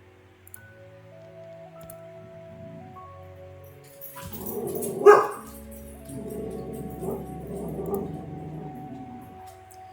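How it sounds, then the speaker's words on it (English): A single sharp dog bark among quieter whimpers and yips, close by, over a faint low hum. "My dog, Bo, sounds like the Hound of the Baskervilles"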